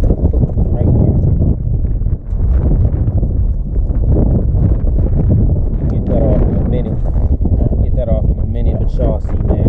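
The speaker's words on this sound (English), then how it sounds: "real windy out" Strong wind buffets a microphone beside LaSalle Cooling Lake with big waves, a loud continuous rumble under some speech.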